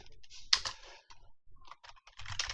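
Code is being typed on a computer keyboard in a quiet room: close, uneven bursts of soft key clicks with short pauses between them and one louder key strike near the start.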